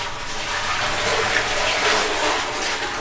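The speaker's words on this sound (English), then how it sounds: "squatty potty flushed" Water poured from a vat rushes into a squat toilet in Sri Lanka, a loud, close, continuous gushing splash lasting a few seconds with no talking.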